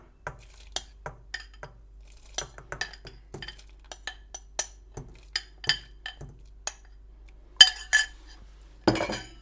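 Wheat grains are tipped into a pot of warm water, with a run of sharp clinks and knocks against the metal pot and a louder burst of clatter near the end.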